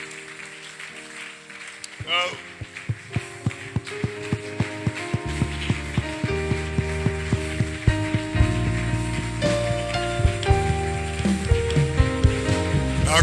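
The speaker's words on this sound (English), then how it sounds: "Clap your hands for the Lord" A church congregation claps along in a rhythmic beat over music, with regular sharp hand claps building after a brief pause, under a voice and instruments.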